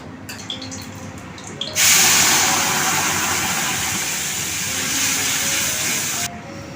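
A pressure cooker on a home stove vents steam in the morning: after faint clatter, a loud, steady hiss starts abruptly, runs for about four and a half seconds, then cuts off.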